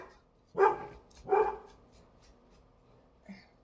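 A dog barks twice downstairs, two loud separate woofs about a second apart, followed by a faint short yip near the end; no talking.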